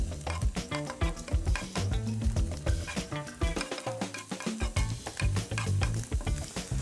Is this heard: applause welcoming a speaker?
no